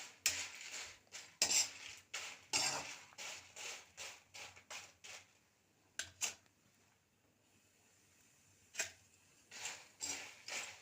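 A spoon scrapes and clinks in a pan as a chili powder mix for idli and dosa is roasted and stirred, heard as quick repeated clinks in bursts, faint and close, with a short pause midway.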